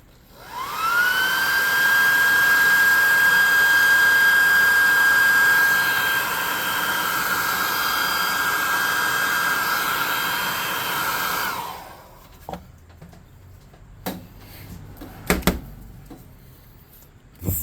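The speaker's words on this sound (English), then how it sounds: "And let's dry that up with the +2 hot air gun" A hot air gun blows a steady, loud whirring roar with a whining tone while drying paint on a miniature, running for about twelve seconds before cutting off, then a few faint clicks and handling taps in near-quiet.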